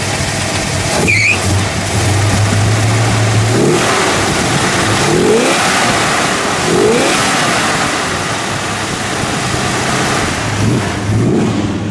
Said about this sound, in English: we'll give it a little rev